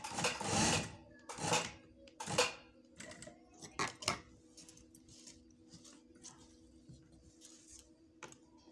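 A sewing machine stitching a shirt runs in short loud bursts at first, then settles into faint, rapid ticking mechanical clatter.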